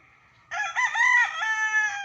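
A rooster crows once, close and loud, a drawn-out strained call after a moment of near silence.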